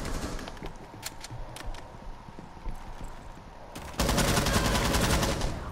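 Gunfire in the video game Rainbow Six Siege, heard as sharp rapid pops and bursts with game noise behind them, growing into a dense, loud volley near the end.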